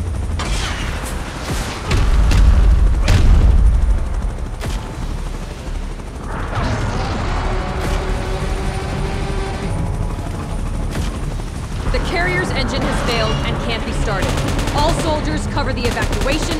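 Gunfire in a PUBG Mobile battle mode themed on Godzilla vs Kong, sustained rapid automatic fire with deep booms and a heavy rumbling din, loud and continuous throughout with a few voices shouting over it.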